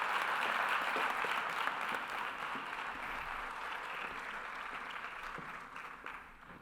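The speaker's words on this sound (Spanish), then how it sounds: "Un aplauso para ella" Audience applause for a speaker at a gynecological cancer conference in Coria del Río, a full room clapping steadily before thinning out near the end.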